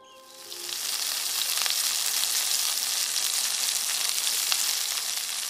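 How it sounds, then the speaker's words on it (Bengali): A fish head frying in a little oil in a wok swells within the first second into a loud, steady, hissing sizzle that continues without pause. "কয়েক পলা তেল কড়াইয়ে ছেড়ে মুড়োটা ভাজতে ভাজতে"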